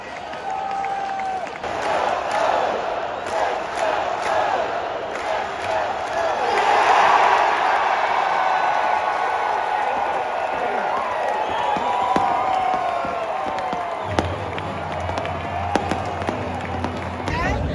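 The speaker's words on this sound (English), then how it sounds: "You can hear the crowd is really fired up here." A baseball crowd at Camden Yards roars and cheers steadily, with a surge of clapping and shouting in the middle and a commentator talking over the noise.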